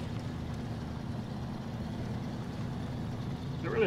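An old truck engine runs at full throttle in SnowRunner, a steady low droning roar that holds constant and rises slightly toward the end.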